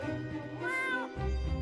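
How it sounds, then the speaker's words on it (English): A cat enemy in the video game Reus 2 gives a single clear, rising-and-falling meow, close and alone against a low background hum. "Hello, kitty cat."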